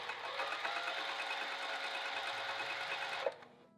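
A sewing machine stitches a cover in one steady, rapid whirring run, close and fairly loud, then stops sharply with a brief clunk and falls quiet.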